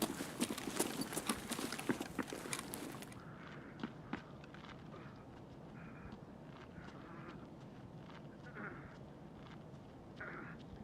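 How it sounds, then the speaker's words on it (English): Enemy squad footsteps in Escape from Tarkov sound as a run of soft, irregular steps, fairly faint and steady across the whole stretch. A louder broadband burst of other game noise covers the first few seconds. "I heard 3 sets of footsteps."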